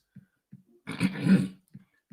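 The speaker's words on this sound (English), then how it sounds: "Let me clear my throat" A person clears their throat once with a rough, gravelly rasp, framed by a few soft clicks and short breaths before and after.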